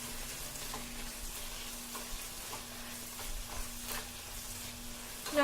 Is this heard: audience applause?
no